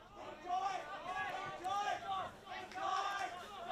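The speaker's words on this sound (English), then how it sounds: "as you can hear in the background, the crowd is actually beginning to get really vocal" Spectators at an under-14 boys' junior Australian football match shout in rhythmic, chant-like surges from the stands, somewhat distant and moderately loud, repeating in waves across the moment.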